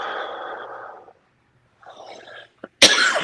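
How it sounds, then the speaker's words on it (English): A person coughs after smoking a rolled cone: a raspy cough burst, a pause, then a weaker cough followed by a sharp, loud hacking cough at the end. "I was coughing because of this cone that I rolled and packed up"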